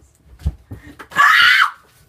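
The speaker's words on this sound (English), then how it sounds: "Hey, quit yelling." A person lets out a loud, shrill yell lasting about half a second, following a few faint knocks and murmurs in an otherwise quiet indoor space.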